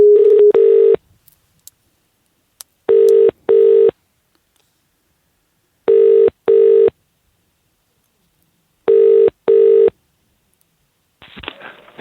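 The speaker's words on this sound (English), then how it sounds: "I'm going to give Stephen Mainprize a call again" A telephone dials and rings a number to reach an upholstery business: a short opening tone, then four loud paired ring bursts spaced about three seconds apart, with a faint rustle at the end and no talk.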